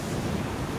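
Stormy sea waves crash and roar on a beach while strong wind buffets the microphone, producing a dense, continuous wash of loud noise with no voices.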